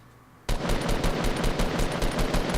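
An SMG in Fortnite fires a sustained, rapid automatic burst right after a quiet lead-in. The shots are loud, close and rhythmic and run evenly to the end, with no talk over them.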